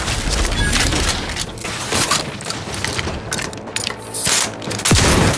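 Gunfire in The Outer Worlds 2 video game, a loud, dense run of overlapping shots and booms that fills the whole stretch, with a heavier blast near the end.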